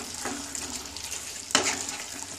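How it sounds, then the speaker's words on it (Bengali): Hot water is poured into a pan of chicken curry, with a soft hissing splash and sizzle under a low background hiss, and a sharper splash near the end. "আমি একটু গরম জল দিচ্ছি"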